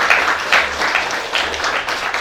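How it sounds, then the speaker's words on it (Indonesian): An audience claps at a Papuan community charity gathering for widows, orphans and elders, brisk scattered applause with a few louder swells, nearby and lively, with no talking over it. "Kita tepuk tangan dulu."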